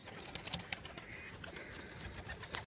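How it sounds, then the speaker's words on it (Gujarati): A ring-banded female pigeon settles beside her eggs in a village loft, giving soft, faint cooing against a steady hiss of background noise. "જો મિત્રો આવડી આ કબૂતરી છે રીંગવાળી જોઈ શકો છો"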